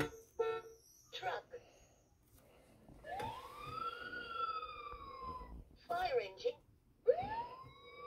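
A VTech Turn and Learn Driver toy steering wheel plays its electronic police siren, a wailing rise-and-fall tone, between short bursts of other chirpy toy sounds, with a person talking quietly nearby.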